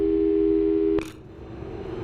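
A steady telephone tone in the game Portal 2 plays for about a second and is cut off by a sharp click, leaving a low hum afterward.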